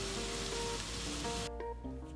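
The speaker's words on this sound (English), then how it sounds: "And just listen to that sizzling tofu." Steady, bright sizzling of tofu frying in a hot pan, loud and close, with faint stirring noises partway through.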